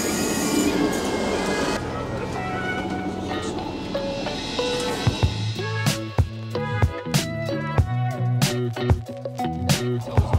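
A train on the reopened Leven Line in Scotland pulls into a station, with a steady rumble giving way to rhythmic clattering, clanks and squeals as carriages roll in close by.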